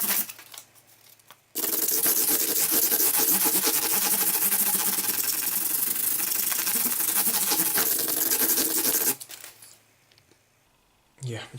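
Fine 1000-grit sandpaper is rubbed back and forth over the frets of an Epiphone SG G-400 guitar, a loud, continuous scratchy hiss lasting several seconds, with quiet stretches before and after.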